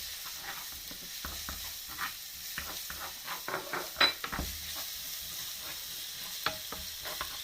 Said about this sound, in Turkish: rendelenmiş soğanımızı Kağıda kavurmaya başlıyoruz